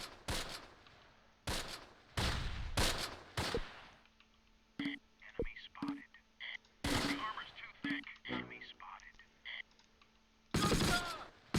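Tanks trading gunfire in the tactical wargame Close Combat, sharp loud bursts of shots in clusters with pauses, followed by scattered lighter impacts and clicks, with a final heavy burst at the end.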